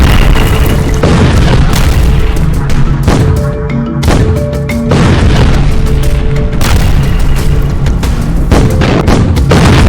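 Bomb explosions in the Gaza Strip sound as loud, deep booms, several in quick succession, each followed by rumbling echoes across about ten seconds of continuous bombardment.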